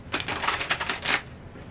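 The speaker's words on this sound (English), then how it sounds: "They're telling me to shuffle one more time." A tarot card deck is shuffled by hand in a quick burst of crisp, rapid riffling clicks lasting about a second, close and alone.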